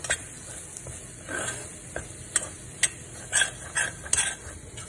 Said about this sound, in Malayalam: എല്ലാ സ്പൈസസും കൂടിയിട്ട് സോട്ട് ചെയ്തെടുക്കാം.